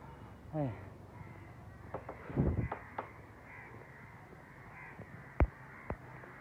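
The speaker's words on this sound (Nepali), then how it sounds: "यहाँ कागहरू चराहरू है कराइरहेछ।" Several crows caw at a distance near Dakshinkali, with scattered harsh calls and a few sharp knocks over a steady outdoor background hum.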